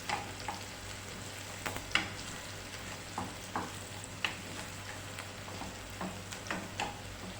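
Chopped onions sizzle in a frying pan while being turned until they start to color, a steady soft hiss punctuated by repeated light scrapes and taps of the stirring spoon, close and without talking.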